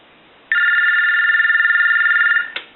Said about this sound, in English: I'll let it go one more time.